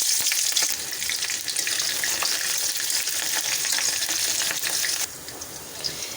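Chopped onion and garam masala fry in hot oil in a wok on the stove, a continuous loud crackling sizzle with stirring scrapes, easing slightly toward the end.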